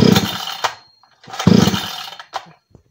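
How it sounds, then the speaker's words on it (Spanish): A chainsaw with a Walbro carburetor is pulled over repeatedly but fails to start, giving short bursts of sputtering engine noise between pauses, loud and close. "La motosierra no arranca como se ve en el video."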